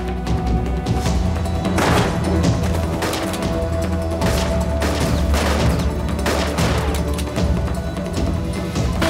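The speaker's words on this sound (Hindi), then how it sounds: "हम पर दोनों तरफ से गोलियां बरसाई जा रही हैं।" Dense, rapid bursts of gunfire crack and boom from several directions in continuous volleys, loud and close, in a historical drama battle scene.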